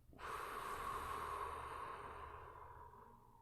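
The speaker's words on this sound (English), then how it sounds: "Hold that expansion for a couple seconds. And then exhale out." A single long, steady exhale of breath out through the mouth during a guided breathing exercise for singers, soft and close, starting abruptly and slowly fading over a few seconds.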